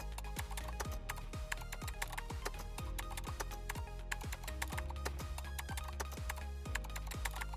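Steady typing on a computer keyboard, a quiet run of crisp, evenly spaced key clicks with no one speaking.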